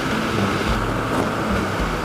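Steady, loud wind roar buffets the microphone while riding a BMW R1200GS Adventure motorcycle at about 55 mph through canyon roads, a constant broadband rush with low rumbling gusts and no talking.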